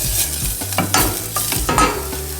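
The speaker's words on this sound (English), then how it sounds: "And then you're going to add your shallots into the pan. We're going to cook those for about 5 minutes." Shallots frying in olive oil in a pan, a close, loud crackling sizzle broken by scraping stirs of a utensil against the pan, with no one talking.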